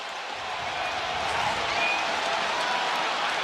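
A stadium crowd at an NFL game between the Los Angeles Chargers and New York Giants keeps up a loud, steady roar of cheering for the whole stretch, with no break in the noise.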